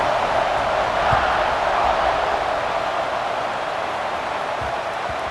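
A stadium crowd in EA Sports College Football 26 roars steadily at a kickoff late in the fourth quarter, a broad, continuous wash of cheering that holds evenly throughout without breaks.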